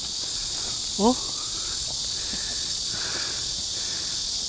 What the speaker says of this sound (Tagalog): Puro kuliglig lang maririnig mo dito oh.